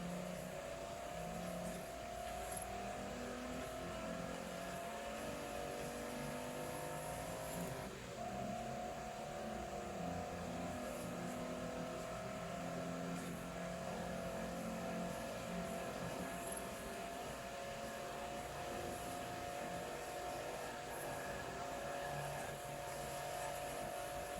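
A heavy car drifts around in a racing video game, its engine a continuous, fairly faint drone that shifts pitch partway through and runs steadily for over twenty seconds.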